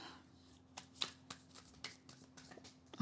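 Tarot cards being drawn and handled from a deck, heard as faint, soft flicks and light papery taps, spaced irregularly over a low steady hum with no voices.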